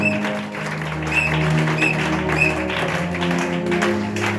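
A church congregation at an evangelistic seminar claps steadily for Jesus, a loud, continuous patter of many hands over sustained keyboard music.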